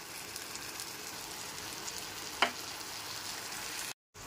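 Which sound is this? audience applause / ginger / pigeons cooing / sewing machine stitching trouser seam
ginger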